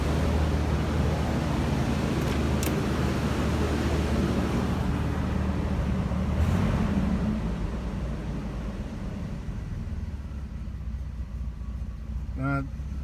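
A 1983 Buick Regal Wagon engine idles on fast idle while still a little cold, giving a steady, close, low rumble that runs unbroken and eases slightly in loudness toward the end.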